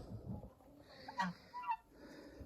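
Several geese, with a gander walking off ahead of the hens, give faint, short honks in a quiet farmyard, two or three brief calls scattered over a couple of seconds.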